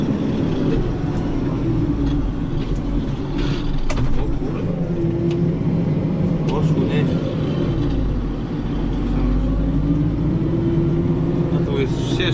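A Zetor Crystal 170HD tractor labours in a low field gear, pulling a cultivator set deep through a field, its engine a loud, continuous heavy drone under strain with someone talking over it.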